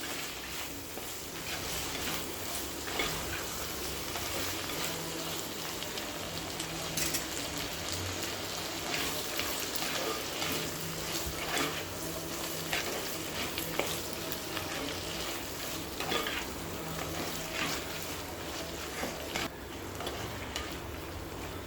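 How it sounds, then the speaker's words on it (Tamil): Tomatoes and onions sauté in a pan for tomato chutney, giving a steady, soft sizzle with occasional stirring scrapes and ticks that run throughout. "தக்காளி சேர்த்துட்டு நல்லா வதக்கிக்கலாங்க."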